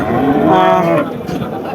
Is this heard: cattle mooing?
yes